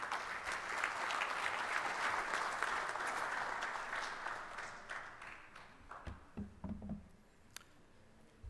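An audience at an international security and defense symposium claps for a speaker with dense, steady applause. The clapping thins out into scattered claps and small knocks before it fades.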